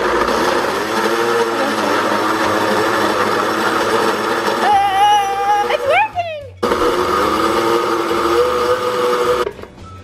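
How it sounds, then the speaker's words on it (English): A blender whirs through an acai smoothie, a steady motor drone broken by a brief rising whine as the speed climbs, then a short pause before it runs again, with people talking over it. "Blend on low until large chunks are broken down, then gradually increase speed, adding a splash of milk at a time."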